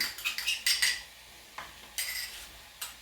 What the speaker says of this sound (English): And scrape the bowl for sure.